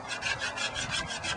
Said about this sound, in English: you want to scrape as much wax off as possible